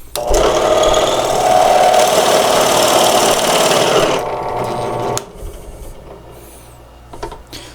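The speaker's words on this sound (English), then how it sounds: "So this big drill has a lot of torque, so we're going to clamp it." Big high-torque power drill clamped down in a saxophone-making workshop, running with a loud, steady whine for about four seconds before cutting off, leaving faint workshop clatter.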